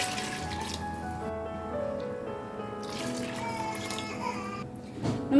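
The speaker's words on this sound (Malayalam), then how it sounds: "ഒരു 3 കപ്പ് നോർമലായിട്ടുള്ള വെള്ളം കൂടി ഒഴിച്ചു കൊടുക്കാം" Water pours into a pot of basmati rice for an Arabic chicken haneeth, a steady close splashing stream lasting several seconds.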